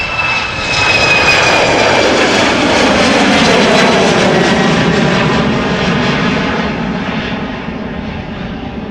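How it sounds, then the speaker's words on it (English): A jet airliner taking off at Amsterdam Schiphol Airport roars steadily in the distance, a broad, sustained rumble with a faint whine that slowly fades toward the end. "Can hear it take off in the distance"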